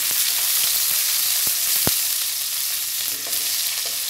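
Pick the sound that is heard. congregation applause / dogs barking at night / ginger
ginger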